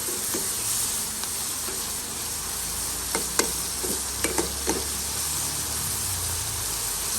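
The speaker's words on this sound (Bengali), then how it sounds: "এভাবে ভাজা করে আমি সবগুলো একদম লাউর মধ্যে ঢেলে দিব" Shrimp fry in a hot pan for a bottle gourd curry, giving a steady close sizzle with a few sharp clicks and scrapes of stirring partway through.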